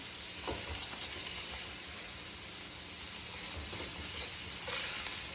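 Asparagus and apples stir-frying in olive oil over a turned-up flame make a soft, steady sizzling hiss with occasional light crackles as the pan is stirred, quiet and unbroken throughout.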